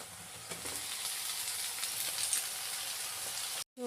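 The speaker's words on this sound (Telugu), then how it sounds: "ఈ కలర్లో వచ్చిన తర్వాత దీంట్లోకి మనం బ్రాక్లీని వేసుకుందాం" Broccoli frying with onion, green chili and carrot in a pan, giving a steady close sizzle and hiss with a few light stirring clinks, ending in a brief silence.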